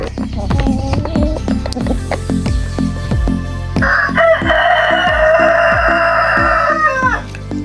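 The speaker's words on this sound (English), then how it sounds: "Every morning starts like this, not with a coffee machine, but with a rooster auditioning for the voice." A rooster crows loudly and close on a chicken farm, one long drawn-out call rising over a busy barnyard of clucking hens and rhythmic thumping.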